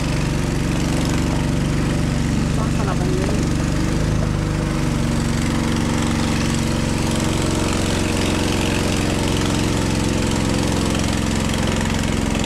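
A solar-powered boat motor revs steadily and loudly for the whole stretch, a continuous droning engine-like hum on floodwater with a brief voice speaking over it early on.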